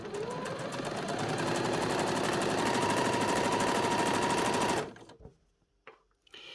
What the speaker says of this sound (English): starting at the neck end, we're just going to sew that curve to join these.